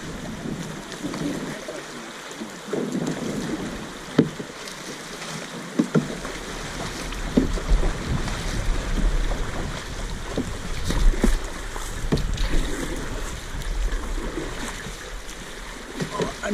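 Canoe paddled down the Salt River, with steady water rush, splashing paddle strokes and wind buffeting the microphone, and people shouting now and then over the noise.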